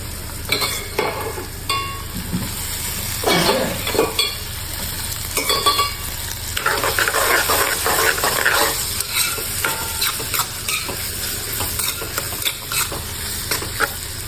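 Boiled potatoes and turmeric are stirred into a sizzling onion-tomato mixture in a pan, with loud continuous frying and scraping, rattling stirring strokes throughout.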